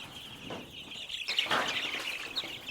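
Country chickens released one by one into a shed, with a steady high chirping and a couple of bursts of wing flapping and clucking, close and moderate.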